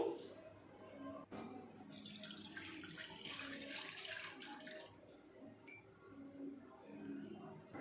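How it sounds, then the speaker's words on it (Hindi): Milk pours into a pan at the start of a homemade condensed milk recipe, a steady watery trickle and splash running throughout at moderate loudness. "अब एक पैन के अंदर सबसे पहले हम दूध डालेंगे"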